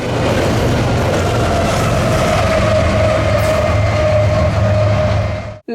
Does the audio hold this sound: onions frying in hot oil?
no